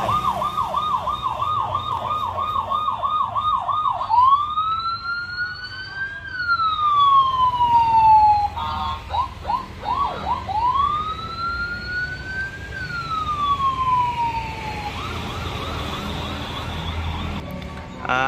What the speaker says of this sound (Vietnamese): Cảnh sát này có cả còi hú nữa.